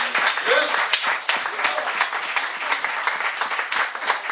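A church congregation applauding and clapping together, a dense, continuous patter of many hands with cheering voices mixed in, steady and loud throughout.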